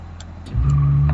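A car in the driving game BeamNG.drive accelerates and revs, its engine swelling abruptly from a low idle into a loud, sustained roar, with no voices.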